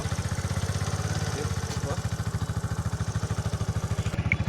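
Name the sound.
motorcycle engine idling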